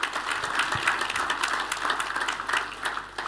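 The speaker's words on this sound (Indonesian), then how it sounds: "Kita tepuk tangannya boleh yang paling meriah buat Tuhan kita" Enthusiastic congregation applause for God at a church service, a continuous dense clapping texture throughout, moderately loud and unbroken, with no clear speech over it.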